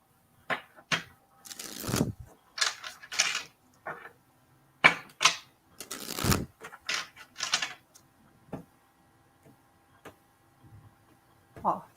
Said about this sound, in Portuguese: Ó, baralhei, cortei